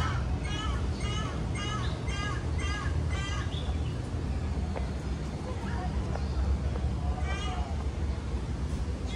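Small birds call in a botanical garden, bursts of rapid chirping repeated over the first several seconds and again near the end, set against steady outdoor ambience and nearby voices.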